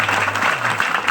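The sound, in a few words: audience clapping at a kirtan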